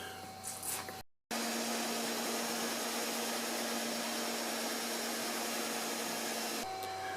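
CNC router with a 1/8 inch bit carving foam: a loud, steady high-pitched whine of the spindle that starts abruptly after a short silence and holds constant, with a softer lead-in and tail.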